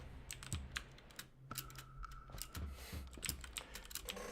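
Keys on a computer keyboard clatter in irregular bursts as a cat walks across it, close and moderately loud, with a soft steady tone running through the middle of the clip.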